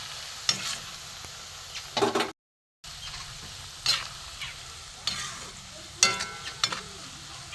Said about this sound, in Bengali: একটু লাল করে কড়া করে ভাজবো